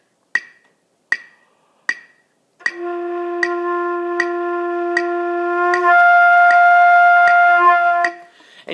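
A flute plays three short, separate tongued notes, then holds a long steady tone that jumps up into the top octave and grows brighter and louder before cutting off, close and clear with no talking.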